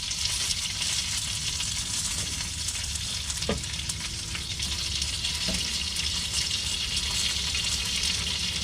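Won ton pot stickers fry in a pan in a cramped RV kitchen, giving a loud, dense, unbroken sizzle and hiss close up, with a couple of faint knocks from the pan and no talking.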